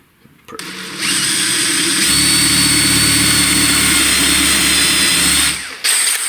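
A power drill driving screws into a whitetail deer backpack mount whirs in one long steady run of several seconds, a close, loud motor whine with a low hum underneath and no talking.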